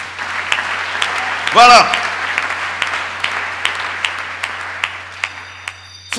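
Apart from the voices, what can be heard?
church congregation applauding the Lord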